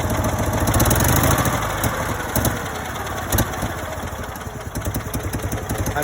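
A Citroen 2CV twin-cylinder engine runs on its carburetor, a loud, lumpy idle with an uneven chugging pulse and clattery mechanical tapping close by.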